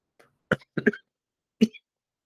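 A few short, sharp coughs in quick succession, close and clear against silence.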